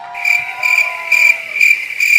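Cricket chirping sound effect played during a live comedy show, a loud, clear run of five evenly spaced bursts of high chirps with nothing else audible.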